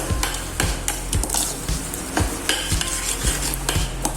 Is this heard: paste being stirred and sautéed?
yes